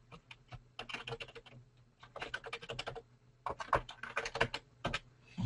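Code being typed on a computer keyboard, rapid quiet clicking keystrokes in bursts separated by brief pauses, close and fairly soft.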